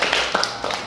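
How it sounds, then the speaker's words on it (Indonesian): Brief burst of classmates clapping for a student in a school classroom, a dense patter of hands lasting under a second with no talk over it. "Tepuk tangan buat Dayu."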